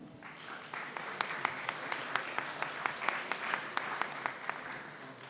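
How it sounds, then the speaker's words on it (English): An audience applauds at a pitch competition event as the jury comes up on stage, a steady patter of many hands with a few sharp distinct claps standing out rhythmically, moderately distant. "Applause for them."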